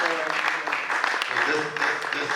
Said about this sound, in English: give a round of applause to the audience